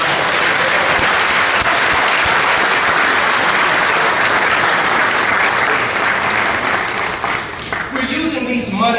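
A large crowd applauds loudly and steadily for several seconds, the clapping fading out at the end.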